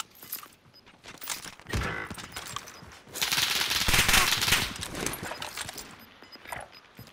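Rapid automatic gunfire in a battle royale video game on Caldera, bursts of shots building into a sustained loud volley with scattered single cracks before and after, no speech.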